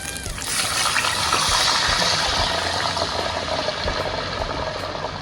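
Water poured into a hot cooking pan for a wild game surf and turf dinner, a steady splashing, sizzling wash that runs loud and close for several seconds without talk.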